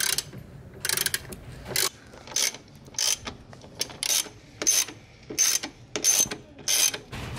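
Ratchet wrench cranking bolts down on a strut tower brace fitted to a Chevrolet Impala, sounding as close, rapid clicking bursts in a regular rhythm with short pauses between strokes.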